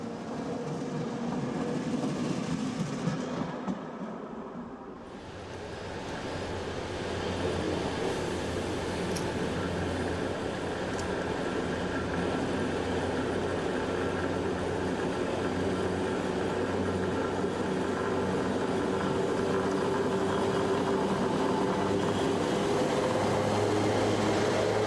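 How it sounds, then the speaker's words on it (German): Electric locomotive E6905, a 1930 Bavarian engine later numbered 169005, pulls out of Murnau station with period coaches, giving a steady rumbling, rolling drone with a brief dip early on, then continuous wheel and traction noise. "E6905, bei der DB ab 1968 als 169005 bezeichnet, hat in Murnau Ausfahrt."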